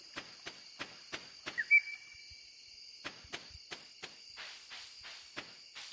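Crickets in Stardew Valley chirp in a steady, evenly spaced pulse against a quiet nighttime backdrop, with one faint brief tone partway through.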